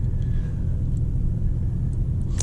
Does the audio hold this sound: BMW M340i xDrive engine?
yes